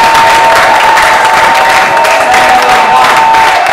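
A church congregation breaks into loud, dense applause with cheering, a sustained wall of clapping from a large crowd close by, continuing steadily without pause.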